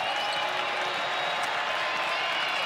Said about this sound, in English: Do you hear this crowd, Marissa?